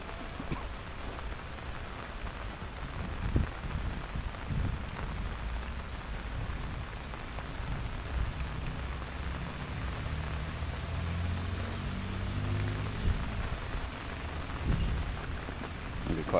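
Heavy rain pours steadily at Fitzgerald Esplanade in Innisfail near a public jetty by the river, a constant close wash of water with low thunder rumbling underneath, and no voices.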